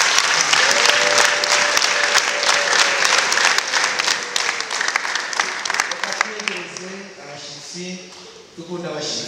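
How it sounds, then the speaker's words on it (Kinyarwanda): Congregation in a church service breaking into sustained, loud applause that fills the room, with a voice speaking over the clapping and the crowd noise thinning toward the end. "Ushaka mwongere mukomere Imana amashyi."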